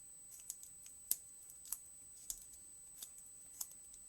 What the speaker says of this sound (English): Let me cut a little more.